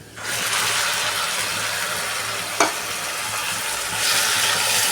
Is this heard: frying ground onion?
yes